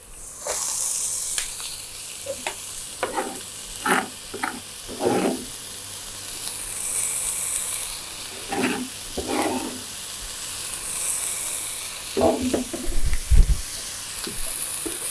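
Coriander being stirred into food sizzling in a pan over very low heat, a steady soft hiss broken by scattered scraping stirs.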